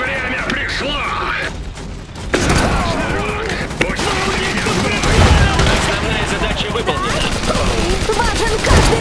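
Gunfire in the real-time strategy video game Iron Harvest, rapid bursts of shots and mechanical clanking mixed with battle noise and a loud music score, continuous and close, with voices shouting in between.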